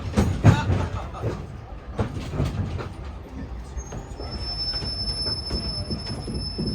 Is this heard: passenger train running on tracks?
yes